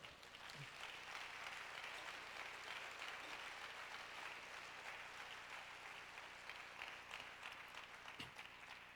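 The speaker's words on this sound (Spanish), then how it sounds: "Damos un aplauso a Jesús." Sustained audience applause fills a large church or stage gathering, a dense steady wash of many hands clapping with no talk over it, holding evenly throughout.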